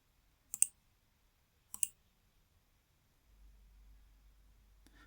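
Two sharp computer mouse clicks about a second apart, crisp and close in an otherwise quiet room, with a faint low hum rising afterward and one more light click at the very end.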